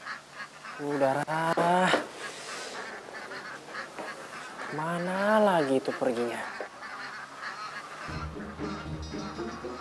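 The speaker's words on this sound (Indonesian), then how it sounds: "Tumben itu bebek jam segini berisik." Ducks in a duck pen quack and honk loudly in noisy bursts, close by, while someone speaks over them at one point.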